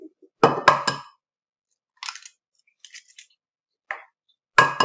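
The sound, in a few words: cracking eggs into a bowl and whisking with a fork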